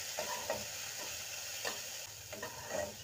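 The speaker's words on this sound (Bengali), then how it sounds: "জিরের গুঁড়ো হাফ চামচ দেব, দিয়ে এটাকে কষাতে থাকবো" Spices with turmeric and cumin powder are stirred in a hot pan, faint and close, with soft irregular scrapes of a spoon over a quiet sizzle; no one speaks.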